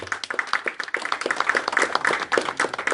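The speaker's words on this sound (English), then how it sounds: "Please, please help me with another round of applause to acknowledge the presence of Dr. Elizabeth Efia Sarkodie" Audience gives a round of applause for a guest at a public gathering, a dense spread of many hand claps, steady and moderately loud for a few seconds.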